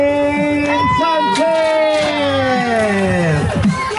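Crowd at a BMX rider presentation applauding and cheering, with whoops and lively voices over a bright, sustained roar, while an announcer's amplified voice carries on through much of it.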